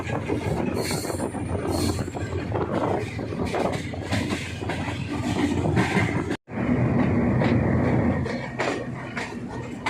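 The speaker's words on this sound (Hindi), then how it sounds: "38 डाउन फरीद एक्सप्रेस वाल्टन के रेलवे स्टेशन पे स्टॉप कर रही है" The 38 Down Fareed Express slows into Walton railway station in Pakistan with a loud, continuous rumble of wheels and carriages. Clanks and faint squeals rise above it, and a brief dropout comes midway.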